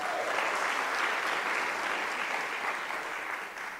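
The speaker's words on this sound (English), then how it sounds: "Can you please give them a round of applause?" A conference audience gives a round of applause: thick, sustained clapping from a large crowd, steady and fairly loud, easing slightly toward the end, with no voices over it.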